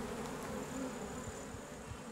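Honeybees buzz around a beehive where the queen is present, a faint, continuous hum with small swells in level and no voices over it.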